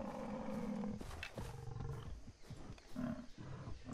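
Tiger roaring in the Far Cry 3 video game, a loud growling roar with several deep bursts over busy in-game ambience, no talk over it.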